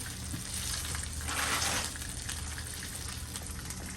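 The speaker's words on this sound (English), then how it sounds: "I have a little bit of oil in this other pan here to get my broccoli started." Frozen broccoli frying in a little oil in a pan makes a steady, close hiss that swells into a louder crackling burst midway, then settles back to a constant sizzle.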